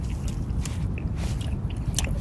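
Close-up chewing of the last bite of a McChicken sandwich, soft squishy mastication with faint crunchy crackles in an irregular rhythm, no talking.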